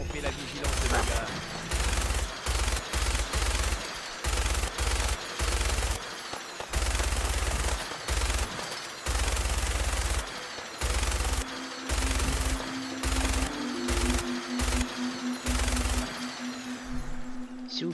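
Rapid gunfire in Fallout 4, bursts of loud automatic shots chopped by brief silences, with a low tonal hum and someone talking in French partway through.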